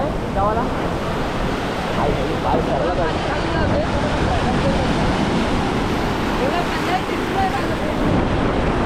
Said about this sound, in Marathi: तेवढ्याच लाटा हतलवत आहेत फुल पाण्यामध्ये